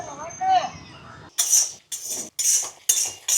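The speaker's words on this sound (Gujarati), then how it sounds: "આ શેનો અવાજ આવે? હું ચણા શેકું છું." Chickpeas roasting in a pan at home give four sharp bursts of dry rattling and scraping in quick succession, each about half a second long, after a brief stretch of talking.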